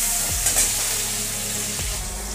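Grated garlic paste hits hot oil and frying spices in a pan for a prawn kalia, giving a steady close sizzle with a couple of soft stirring knocks.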